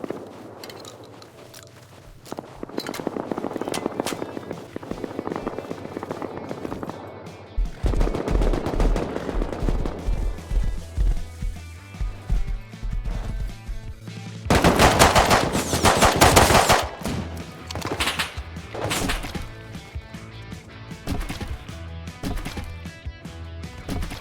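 Gunfire in a Rust multiplayer survival game on snowy ground, rapid automatic bursts and single shots near and far, with footsteps between volleys and a dense, loud flurry of shooting in the middle.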